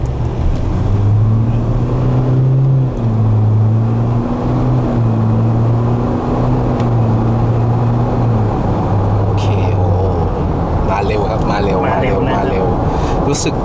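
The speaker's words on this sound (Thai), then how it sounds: "ก็สือ10เกียร์10เกียร์ของ ตัวฟอร์ดตัวนี้ค่อนข้างที่จะออกตัวสมูท" Ford Ranger Stormtrack 4x2 pickup with a 10-speed gearbox pulling away from a standstill, its engine note climbing smoothly and stepping through upshifts for about eight seconds before settling, heard from inside the cab over steady road and wind noise.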